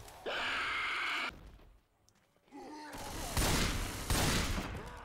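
Bursts of rapid video game gunfire, loud and crackling, broken by a quieter pause, with voices calling out over the shooting.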